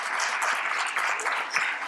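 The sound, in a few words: audience applause at a lecture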